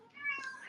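A pet cat gives a short, quiet meow, a single brief rising-and-falling cry heard close but faint in a quiet room.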